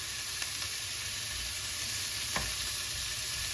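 Butter melting in a hot pan for pork fried rice gives a constant close hiss and crackle, steady and moderately quiet, with a couple of faint clicks and no voices.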